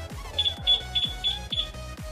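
A 2020 Yamaha NMAX two-way alarm sounds its locator, a quick string of about six short, shrill electronic chirps, each paired with a dull low pulse, loud and close.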